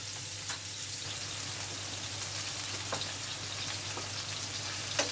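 Chicken sizzles and crackles steadily as it sears in a hot pan, a continuous close frying hiss with occasional sharper pops.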